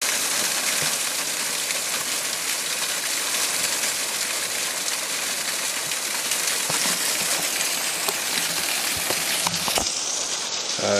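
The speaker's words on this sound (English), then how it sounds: "Another little waterfall along the trip here." A small waterfall along a trail pours in a steady, loud, broadband rush that stays constant throughout, close by and alone without talk.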